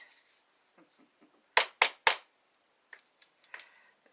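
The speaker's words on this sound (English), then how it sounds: "Hear those sandpaper hands?" Rough, dry hands rub together in a few quick, dry swishes, then several sharp taps and softer brushing sounds close up in a quiet room.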